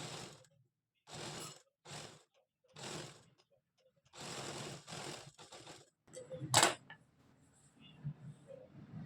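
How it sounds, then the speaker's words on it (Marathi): A domestic sewing machine topstitches the neckline of a pan-shaped blouse neck design, running in several short separate bursts with pauses between, then a sharper clatter near the end. "तर इथे मी गळ्याला पण दाबटीप मारून घेते अगोदर"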